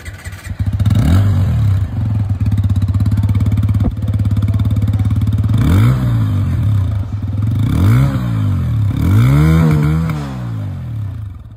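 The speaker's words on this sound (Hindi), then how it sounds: "अब मैं आप लोगों को यहाँ पर इसकी जो एग्जॉस्ट साउंड है वो भी मैं आप लोगों को सुना दूँ।" Motorcycle exhaust from an OBD 2B engine, a loud close idle broken by several quick throttle blips that rise and fall in pitch, with a faint clatter in between.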